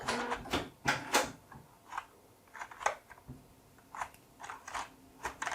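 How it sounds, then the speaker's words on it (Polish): Keys tapped in quick irregular bursts on a Genesis Rhod 350 RGB membrane keyboard during an anti-ghosting test, a series of close, soft clattery clicks with short pauses between clusters. "klawiatura przed nami na początek test anti-ghostingu"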